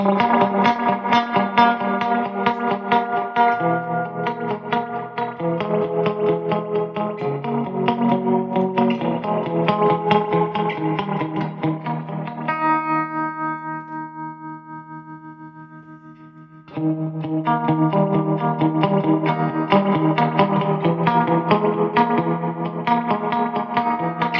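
Electric guitar through a 1967 Fender Princeton Reverb amp with the reverb turned almost all the way up, playing sustained chords and notes in a wash of reverb, with a held ringing chord fading before playing resumes.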